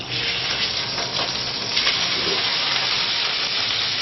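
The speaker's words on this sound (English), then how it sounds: "quickly sear one side and turn it over" Steak searing in a hot pan of extra virgin olive oil gives a steady, loud broadband sizzle and hiss that holds for the whole stretch with small crackling flickers and no talking.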